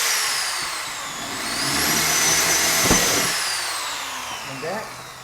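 A drill bores holes through a homemade wooden bee frame, whining loudly and steadily and shifting pitch as it runs, with a voice speaking briefly over it.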